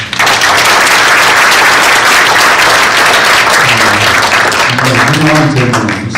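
Large audience at a regional church conference general assembly stands and gives sustained, loud applause that fills the room and holds steady throughout, with a faint voice surfacing near the end.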